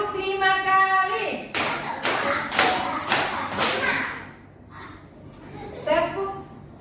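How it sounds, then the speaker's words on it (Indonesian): A group of children in a classroom claps five times in unison, with five loud, evenly spaced claps. An adult's voice is heard before and after the clapping. "Tepuk 5 kali."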